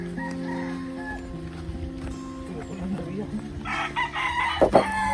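Chickens cluck in the background on a Philippine farm, with a rooster's crow rising near the end, over steady ambient noise and some voices speaking Filipino.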